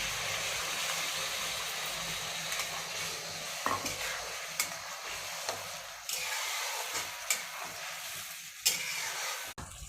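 Tomato puree frying in oil with browned onions and cumin for pav bhaji, a steady close sizzle with occasional scrapes and clinks of a spoon stirring in the pan.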